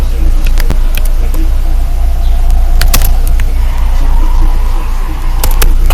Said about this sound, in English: now we got a new Cybertruck, fresh out of the shop